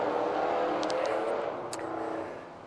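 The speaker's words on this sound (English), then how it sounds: "stupid car." A car passes by outdoors with a steady engine and tire rush that swells and then fades away, with a few faint high clicks mixed in, and no one speaks.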